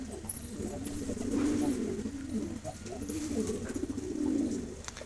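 Pigeons coo softly in repeated, rolling bursts, a few calls overlapping, against faint outdoor background noise.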